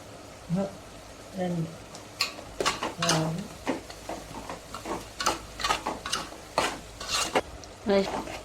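Green chilies sauteed with cumin and turmeric in a pan for gongura chutney, a spoon scraping and knocking against the pan in irregular bursts over a low sizzle, close by, while someone talks.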